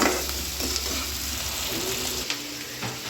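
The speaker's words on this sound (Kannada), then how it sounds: "ಚೆನ್ನಾಗಿ ಫ್ರೈ ಮಾಡ್ತೀನಿ." Green chillies frying in a pan, a loud continuous sizzle with stirring, close and steady with no voices.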